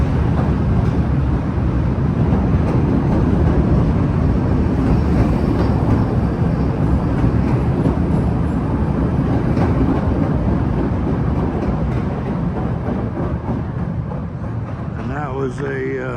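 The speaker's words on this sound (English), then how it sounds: "And that was another Brown Line train heading from the Chicago Loop, downtown Chicago, to Kimball Avenue on the north" A Chicago Transit Authority Brown Line elevated train runs through Armitage station, a loud, steady roar of wheels and motors that holds throughout and eases slightly near the end, with a brief squeal at the close.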